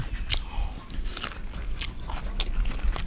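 Someone bites and chews a pizza topped with Thai basil stir-fry, giving close, crunchy bites and wet chewing in uneven bursts, with no speech.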